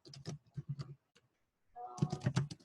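Keys tapped on a computer keyboard while entering a search, in two quick bursts of clicks separated by a short pause, close and moderately loud.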